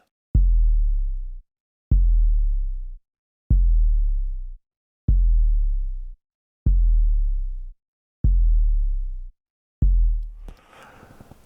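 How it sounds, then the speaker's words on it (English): Seven identical synthesized tones from a Joy Sturgis audio effect, each a sharp attack that holds and then cuts off, repeat at an even pace. A brief burst of noise follows at the end. "This is a Joy Sturgis sound."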